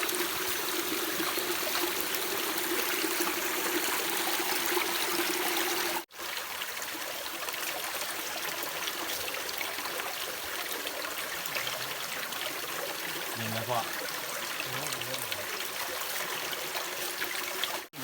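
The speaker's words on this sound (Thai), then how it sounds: "เสียงอันนี้มันเป็นเสียงน้ำโตนเนี่ยครับ" Steady rushing waterfall, a continuous broadband roar of flowing water, close and fairly loud, with a brief break partway through before it continues.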